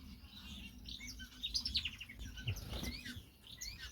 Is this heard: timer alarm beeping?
no